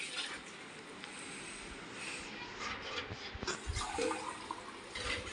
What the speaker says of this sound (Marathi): एवढं पाणी टाकते मस्त पैकी एक तांबा एक तांब्या पाणी